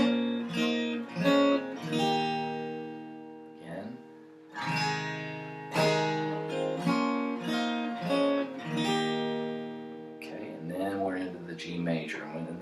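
Electric guitar slowly playing chord and riff parts from a song, with ringing strummed chords and single notes in a loose rhythm, close and alone, with a few short pauses between phrases.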